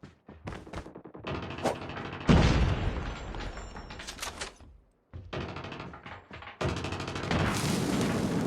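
Explosions and gunfire in a Call of Duty Mobile multiplayer match, including a frag grenade blast, with a heavy boom midway among dense bursts of shots and loud sustained battle noise.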